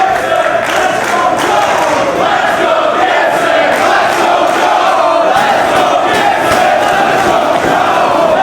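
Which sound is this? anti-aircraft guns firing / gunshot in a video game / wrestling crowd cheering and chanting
wrestling crowd cheering and chanting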